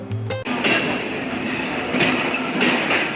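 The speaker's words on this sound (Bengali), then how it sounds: "আন্তনগর রূপসা এক্সপ্রেস ট্রেনটি কিন্তু অনেক বড় লম্বা একটা ট্রেন" The Intercity Rupsha Express, a long broad-gauge train hauled by an American diesel locomotive, rolls past close by with a steady rumbling roar and rail clatter, a brief sharp tone at the start.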